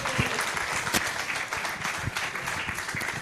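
An audience at an agroecology framework launch event in Nakuru applauds steadily, a dense, even wash of many hands clapping with no one speaking over it.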